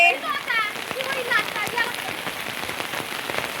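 Heavy rain hammers down and runoff water flows past where children sail paper boats, a dense continuous hiss up close with voices talking over it.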